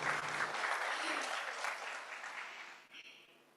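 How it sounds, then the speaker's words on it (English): Audience applause for a panel moderator at a regional land forum, a steady wash of clapping that gradually fades toward the end, with a brief voice near the start. "please, a round of applause for Natalie"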